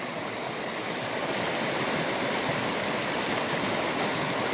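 An overflowing stream swollen with silt rushes past close by, a loud, dense and unbroken wash of water with no voices.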